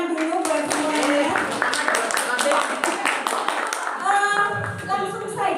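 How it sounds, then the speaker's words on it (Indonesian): Audience clapping at an Indonesian gathering, a steady run of many hands applauding for several seconds, with voices mixed in and music-like tones near the end. "tepuk tangan dulu buat semuanya"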